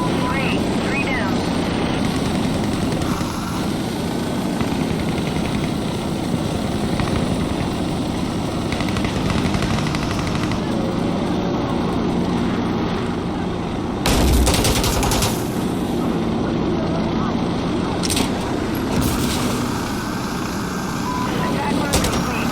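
A helicopter attack run in the video game Insurgency Sandstorm, rotor and engine drone under steady rattling gunfire, with a few louder blasts and bursts as the run goes on.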